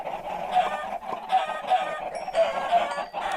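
Busy, continuous clucking and squawking from a crowd of video game chickens, overlapping calls with a few sharper honk-like notes, fairly loud and close, no talking.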